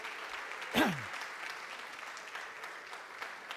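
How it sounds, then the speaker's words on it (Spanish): Steady applause from a church congregation fills the space, a dense even patter of clapping sustained throughout with a brief louder whoop near the start. "Démosle un aplauso a Él."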